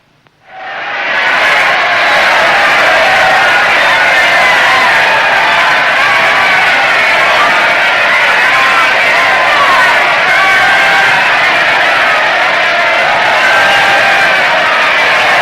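A waiting crowd cheers and clamors at a steady, loud level from a quiet start, a dense wash of many voices with whoops, sustained throughout in an 1830s frontier town setting.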